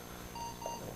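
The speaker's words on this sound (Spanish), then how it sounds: "Ahí está sonando el despertador." An alarm clock beeping early in the morning, a faint, short electronic tone in two brief pulses against a quiet room.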